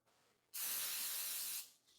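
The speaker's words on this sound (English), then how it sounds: "what happens if you decide to cover the product in Pam spray?" Pam cooking spray sprayed from an aerosol can onto a product, one steady, close hiss lasting about a second that starts and stops abruptly.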